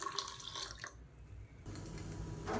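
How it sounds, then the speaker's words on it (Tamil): Water pours and splashes into a mixer grinder jar as it is rinsed out after grinding horse gram chutney, a close, steady trickle and slosh with a brief quieter gap. "இப்போ மிக்ஸி அலசிட்டு தாராளமாக தண்ணி சேர்த்துக்கலாம்."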